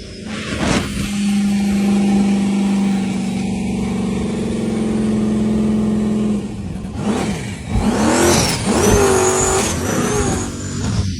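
Single turbocharged LS V8 in a boat, revving hard: a loud, sustained engine drone with rising and falling pitch, then a sharper burst of revs near the end.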